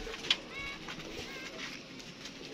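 Pigeons coo softly on a rooftop in Gujranwala, low murmuring calls blending with faint ambient noise and a brief sharp chirp near the start.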